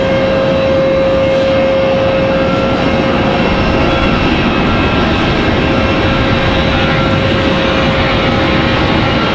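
A Delta Airbus A319 jet departs from Raleigh Durham International Airport with a loud, continuous engine roar and a steady tonal whine, heard from the far side of the field with no voices.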